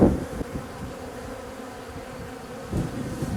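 Honeybees buzz steadily around an open hive, a close, continuous hum with a few brief louder bumps near the start and end, no talking.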